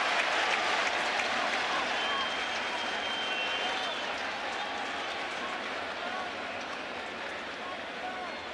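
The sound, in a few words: Bronx cheer from Yankees baseball crowd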